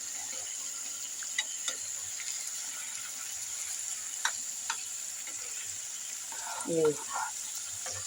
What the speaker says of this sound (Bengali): দেখুন আমাদের মাছগুলো 1 পিঠ হয়ে গেছে ভাজা